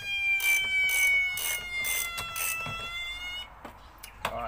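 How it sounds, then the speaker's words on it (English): A Ford BA/BF car alarm blares in rapid pulsing bursts over a high steady tone as the battery is disconnected, then cuts off, leaving a few faint clicks and knocks. "There probably will be a bit of noise when I undo this from my car's alarm"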